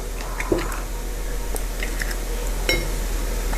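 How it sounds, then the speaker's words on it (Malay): Two eggs cracked into a bowl make faint sharp shell taps and small clinks, two brief cracks standing out over quiet kitchen background, with no talking. "cik nak pecahkan 2 biji telur"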